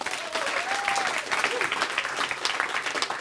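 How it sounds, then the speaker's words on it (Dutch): A concert audience applauding a saxophone quartet loudly and continuously, a dense crackle of clapping hands that keeps going throughout. "van wie ik ook een applaus verwacht"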